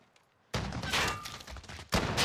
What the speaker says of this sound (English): That was a sniper rifle.